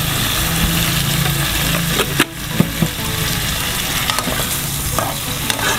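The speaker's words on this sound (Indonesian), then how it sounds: "Aduk-aduk lagi seperti ini." Opor ayam, chicken in coconut broth, being stirred in a pot, a loud close bubbling sizzle under scraping spoon strokes and a few sharp clacks against the pot, with no talking.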